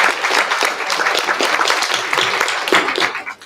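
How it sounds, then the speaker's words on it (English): Audience applause at a Hispanic Unity of Florida entrepreneur summit, honoring the event organizers: dense, sustained clapping from a large crowd, steady throughout and tapering off at the end. "Please give them a round of applause for organizing this wonderful event."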